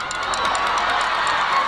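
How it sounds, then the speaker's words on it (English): High school seniors cheer at a homecoming pep rally in a continuous, loud crowd roar of shouts and whoops, dense and unbroken throughout. "Seniors, get up and cheer."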